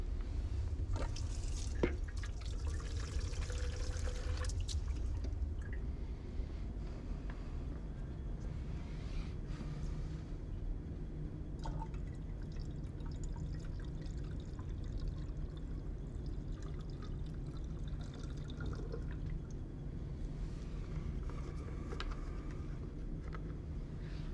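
Distilled water poured steadily into a 1 liter graduated cylinder to top up a tissue culture solution, a continuous close liquid pour with occasional drips and clinks.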